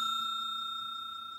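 Notification bell ding sound effect: a bright, sustained chime ringing out alone with a clean, slowly fading tone.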